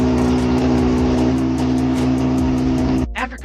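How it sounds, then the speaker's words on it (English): A 2010 Kawasaki ZX6R motorcycle engine, rebuilt after a crash, runs in a workshop with a loud, steady idle hum that holds close and constant before cutting off abruptly near the end. "The engine on the frame was impressively responsive,"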